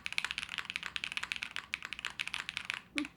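Typing on a custom Brutal V2 mechanical keyboard with ABS keycaps: a fast, continuous run of crisp, close-up keystrokes clattering in an irregular rhythm, with a deeper spacebar thock near the end.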